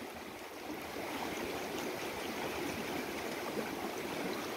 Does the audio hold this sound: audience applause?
no